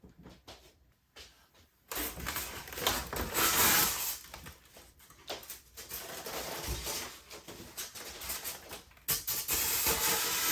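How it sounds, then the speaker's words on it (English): A model train runs along its track with a steady rushing hiss and clatter, surging louder after a quiet start and continuing up close. "Let's run a train round."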